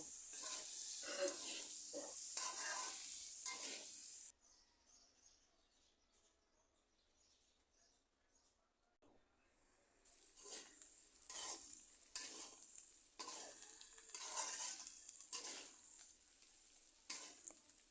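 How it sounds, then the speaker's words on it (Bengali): Cauliflower curry with chopped coriander leaves frying in a pan: close stirring scrapes and sizzle, then a quieter lull of several seconds, then louder rhythmic stirring and frying resumes with sharp scraping strokes. "এই ধনিয়া পাতা কুচিটা দেওয়ার পর আরও কিছুক্ষণ ভেজে নেব হচ্ছে ফুলকপির সবজিটাকে"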